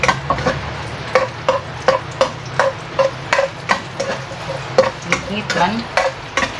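Onions fry in a pan for bihon guisado while a utensil stirs them in quick, regular strokes, each one a clear tapping scrape over a low steady sizzle, with a brief spoken word near the start.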